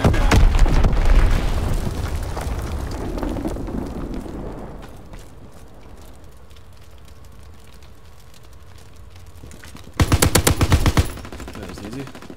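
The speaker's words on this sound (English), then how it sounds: "Enemy bomb incoming." In Call of Duty WWII multiplayer, heavy bomb explosions and gunfire roar loud at first, fade into a low rumble with scattered shots, then a sharp burst of rapid gunfire erupts near the end.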